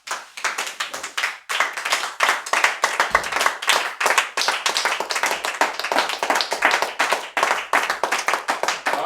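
A church congregation claps loudly and steadily in praise of the Lord, dense rhythmic handclaps filling the space with a brief pause near the start, then continuing strongly throughout.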